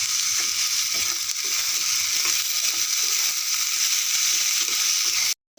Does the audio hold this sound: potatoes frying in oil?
yes